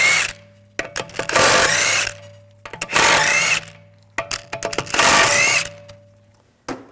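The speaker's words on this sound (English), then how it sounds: "Using a 17mm socket, take the lug bolts off." Lug bolts come off a 2006-2009 Audi S4 4.2L V8 with a 17mm socket on a power tool, heard as three loud, close, whirring bursts of about a second each with short clicks and pauses between them.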